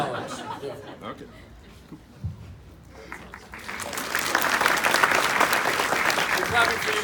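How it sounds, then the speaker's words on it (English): Audience at a convention fan panel chuckles and talks quietly, then breaks into loud, sustained clapping that swells and holds to the end. "We're clapping for you, sir."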